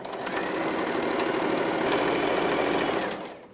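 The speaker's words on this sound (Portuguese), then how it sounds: "Vamos supor que eu estou iniciando aqui uma costura" A domestic sewing machine runs a seam in one continuous, fast, even whirr of stitching for about three seconds, then stops.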